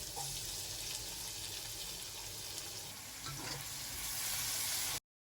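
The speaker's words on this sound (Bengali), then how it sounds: "এরপর একই প্যানে সামান্য পরিমাণ তেল দিয়ে দেব, আরও দিয়ে দেব পেঁয়াজ কুচি।" Chopped onions frying in a little oil in a pan, a steady broadband sizzle running continuously and close, ending abruptly, with no talk.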